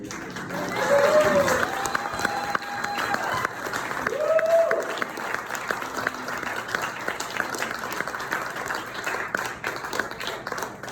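An audience claps at a talk about overcoming trauma, with the applause rising and falling over moderate crowd noise while a person speaks over it and short tonal sounds break through.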